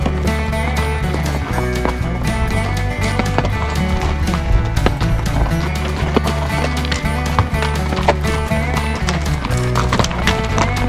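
Steady hoof clip-clops of shod pack horses plodding over a hard, rocky mountain trail in the Sawtooth Mountains, a continuous uneven rhythm close by with no talking.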